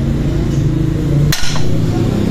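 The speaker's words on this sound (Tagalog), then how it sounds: "Mag-produce kayo ng knocking sound, mabigat para mas maganda." A single sharp knock strikes a car's knock sensor on a Toyota, one brief hard tap standing out against a steady low engine hum.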